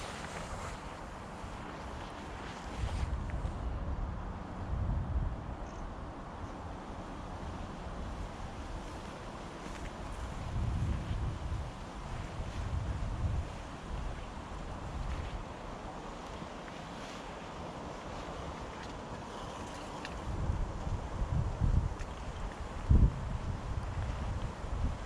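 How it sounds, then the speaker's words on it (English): Wind gusting outdoors at a camp site, a steady broad rush that swells and buffets the microphone in waves over about twenty-five seconds, with no voices. "Quite a bit of wind there now"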